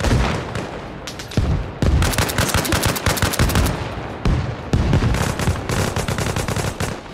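Sustained automatic gunfire from the military shooter Arma Reforger, set in Helmand Province: long dense bursts of rapid shots, loud and close, with brief pauses between volleys.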